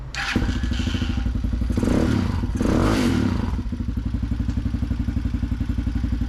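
A Magician 250cc Chinese dual-sport motorcycle, running slightly lean on stock carburetor settings, cranks and fires up, revs briefly and then settles into a loud, close, steady chugging idle.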